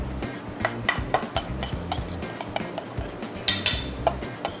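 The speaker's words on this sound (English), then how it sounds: "Now we're going to mix the tartare." Beef tartare with chopped chive, salt, black pepper and dill oil is mixed with metal utensils in a dish, making a quick, close series of scraping clinks and taps.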